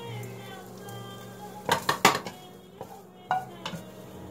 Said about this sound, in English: I'm going to start throwing in my onions and garlic, getting everything nice and sauteed